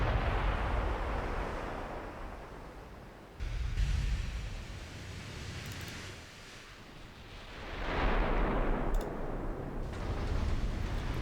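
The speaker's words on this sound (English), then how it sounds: "Wow, that's a lot of ricochets" Naval shells from battleships, including the Duke of York, ricocheting and striking targets in a World of Warships-style game, rolling booms and noisy crashes that swell, fade and swell again over a steady roar.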